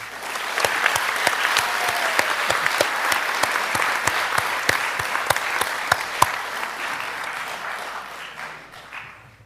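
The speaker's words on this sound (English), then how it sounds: "please give these kids a big round of applause" Applause from an audience at a school district board meeting, honoring a group of kids: a dense, steady patter of many clapping hands with sharper individual claps, sustained for several seconds before thinning out at the end.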